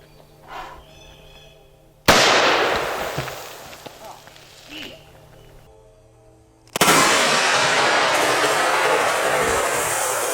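A Mossberg 590 Shockwave shotgun loaded with Lawman rounds fires two loud, close blasts several seconds apart, each cutting off abruptly into a noisy ringing wash, with a short stretch of talk before the first shot.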